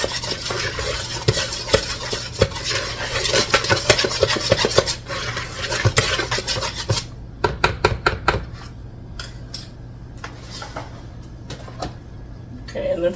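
Dry ingredients with pumpkin pie spice are stirred in a bowl, making rapid, close clinks and scrapes of a utensil against the bowl that grow sparser and quieter toward the end.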